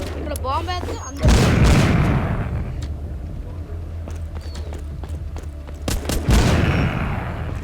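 In the Walking Zombie 2 video game, two heavy booming blasts with crackling gunfire burst out several seconds apart over a low background drone, with a voice speaking at the start.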